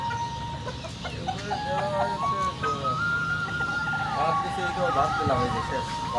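Native chickens cluck and call in a busy flock on a small farm, with a steady rush of background noise and some voices mixed in.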